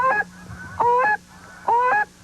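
A woman imitates the honking of geese, a goose-call style learned at Powell's Point, North Carolina. Three loud, nasal, two-part honks are evenly spaced with short pauses between them, close and clear over a quiet background.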